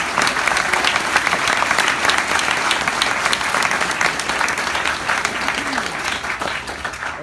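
Steady applause from a graduation audience for family and friends, dense clapping from many hands filling a large room, sustained and even throughout.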